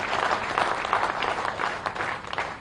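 An audience at a political welcome event in Bhopal claps continuously, a dense steady patter of applause from a crowd at moderate volume.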